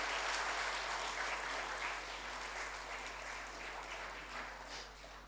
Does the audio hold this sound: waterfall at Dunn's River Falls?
no